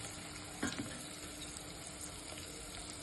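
Onions sautéing in a pan until browned for Andhra-style dal, a faint, even sizzle running throughout with one brief clatter near the start.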